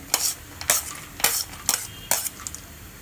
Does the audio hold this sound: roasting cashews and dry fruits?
yes